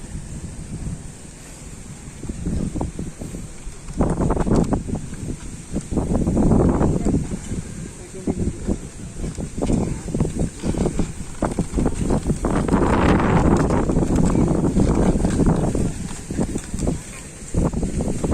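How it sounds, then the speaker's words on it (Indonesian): Strong, gusting wind buffets the microphone outdoors at a bull-racing (kerapan sapi) training session, rising and falling in loud roaring surges with faint background noise. "Angin guys"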